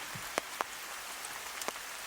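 Rain falls steadily through the Khao Yai forest canopy, a soft continuous patter with a few sharper drops striking close by, no voices present.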